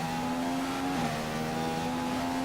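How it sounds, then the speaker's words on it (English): Race car in a Chinese Grand Prix racing video game accelerating hard out of a corner, a steady, loud engine drone that briefly dips as the car shifts gear and then keeps rising, with no voices over it. "Accelerating off this corner."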